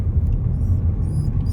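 Car driving at a park by a creek dam, with a steady low engine and road rumble heard from inside, close and continuous.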